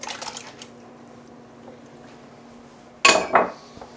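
Canned beans and their juice tipped into a pot of plain water: quiet room, then a sudden loud clatter and splash of liquid and metal near the end, close and brief.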